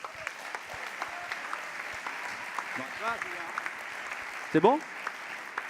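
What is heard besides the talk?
audience applause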